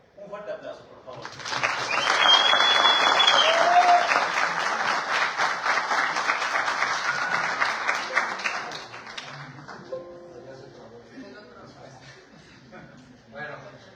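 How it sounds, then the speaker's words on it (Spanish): Audience applause greets a veterinary speaker at a conference on animal abuse cases, building quickly to a loud, dense roar of clapping that holds for several seconds, then thins out and fades into scattered claps and room murmur. "Un fuerte aplauso, por favor"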